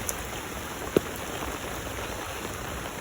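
Steady rain falls on a rural village road on a rainy day, a soft, even patter with one brief sharper drop or tap near the start and no talking.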